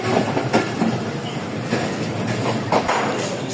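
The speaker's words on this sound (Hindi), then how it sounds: "साढ़े 7 बजे पहुंची है जी आज लाला मूसा जंक्शन पर रेल का" Train at Lala Musa Junction railway station in Pakistan, with loud rumbling rolling noise and intermittent clattering wheel knocks up close over the full stretch.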